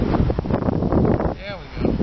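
Wind buffets a microphone outdoors during a windy-day fire challenge, with continuous loud rushing and rumbling gusts throughout the short stretch.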